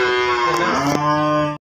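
A large fattened bull on a North Bengal farm gives one long, deep, drawn-out moo up close, rising slightly and then stopping abruptly.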